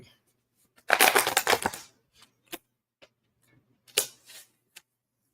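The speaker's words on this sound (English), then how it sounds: "Shuffle these cards." A deck of playing cards is riffled in a quick flurry of crisp ticking flaps up close, followed by scattered soft taps and a second short riffle burst, with quiet gaps between.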